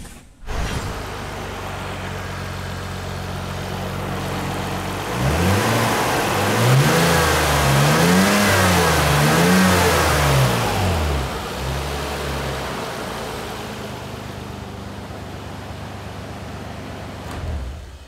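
A Nissan R34 Skyline engine, just back from a full coolant system service and bleed, idles steadily up close, then revs in a rising and falling pattern before settling back to a smooth idle.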